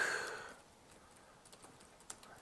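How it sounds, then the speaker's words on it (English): Faint, sparse clicks of a computer keyboard being typed on during a Delphi programming talk, a handful of light keystrokes scattered over a quiet background. "In Delphi, my only option is to start typing"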